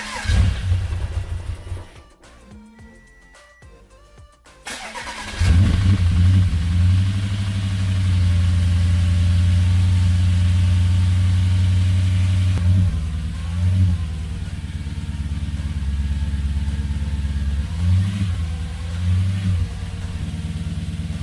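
A 2009 Audi S5 engine with straight-piped exhaust cranks and catches, then settles into a loud, steady, unmuffled idle with a few blips of revving, close by.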